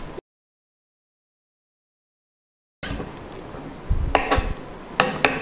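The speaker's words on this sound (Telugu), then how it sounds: "ఇప్పుడు పచ్చిమిర్చి కట్ చేసుకుందాం." A knife chops green chillies on a cutting board after a silent pause, giving a few sharp, close taps and scrapes spaced irregularly over a quiet kitchen background.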